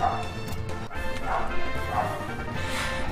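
A household dog barks repeatedly, about four short, close barks spread over a few seconds, with game music continuing underneath.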